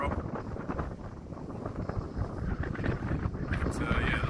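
Steady wind buffets the microphone at Loch Harbour on Jura, a continuous loud broadband rumble that gusts slightly stronger toward the end, with no other clear sound standing out.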